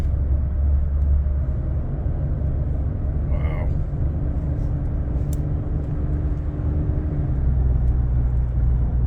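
Ford PowerBoost twin-turbo hybrid pickup towing 12,000 lb on hilly back roads, a steady loud low engine and road rumble heard from inside the cab, with a person talking over it.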